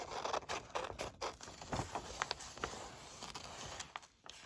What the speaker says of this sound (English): I'm just going to fussy cut the person out